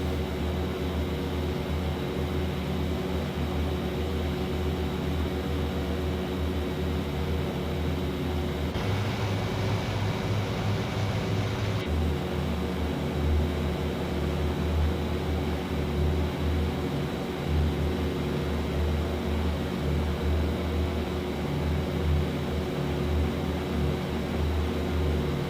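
The P-38 in the IL-2 flight sim holds a continuous, even engine drone for the whole stretch, with a brief shift in tone partway through before the steady hum resumes.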